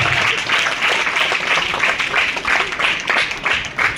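Audience applauding students at a school enrollment and girls' education ceremony, steady rhythmic group clapping in rolling pulses, fairly loud and continuous with no clear speech.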